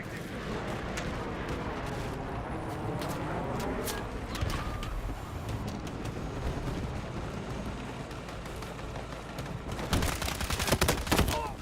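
Rapid, dense gunfire in Battlefield 6 crackles continuously amid distant battle noise, building into a louder cluster of close shots near the end.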